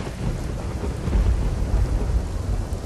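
Heavy rain pours steadily over Ahmedabad while low thunder rumbles beneath it, a dense, loud wash of noise with no voices.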